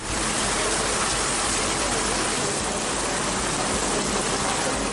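Heavy rain pours down in Ooty, Tamil Nadu, a dense, unbroken hiss of water on roads and surfaces, loud and constant with no pauses.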